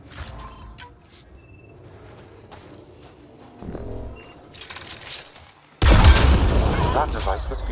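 Gunfire aimed at a Ket device in the Mass Effect: Andromeda video game, with scattered shots and clatter under quieter game ambience, then a loud, dense burst of firing and impacts erupting and continuing to the end.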